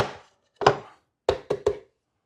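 A pumpkin cinnamon roll loaf flipped out of its baking pan onto a tray, heard as a single clunk followed by three quick close knocks that ring out briefly, with silence around them.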